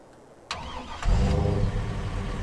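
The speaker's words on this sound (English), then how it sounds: "So let's hop in the F-250. It's only 5 degrees out, guys, so it's going to be a nice cold start." In Farming Simulator 22, a starter cranks briefly, then a Ford F-250 Power Stroke diesel engine catches on a cold start and settles into a loud, rumbling idle close by.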